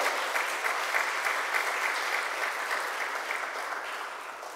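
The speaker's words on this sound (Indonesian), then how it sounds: "Mari kita berikan tepuk tangan untuk para panitia dan kita semua." An audience at an Indonesian family seminar applauds the organizing committee with steady, dense clapping that stays loud and fades slightly toward the end.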